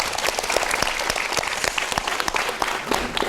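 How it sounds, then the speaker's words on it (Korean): Middle and high school students at a debate forum give a burst of energetic clapping, dense, loud and sharp hand claps filling the room without pause. "뜨거운 박수"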